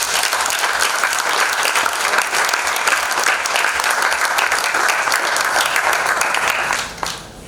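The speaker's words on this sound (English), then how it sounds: "A round of applause." Loud, dense audience applause fills a conference room at a founders' retreat in Goa, sustained evenly for several seconds before tapering off near the end.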